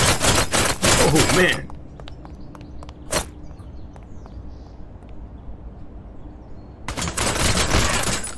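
Bursts of gunfire from a zombie shooter video game ring out at the start and end, with one sharp shot between and a quieter stretch of game ambience in the middle, while a player talks over it.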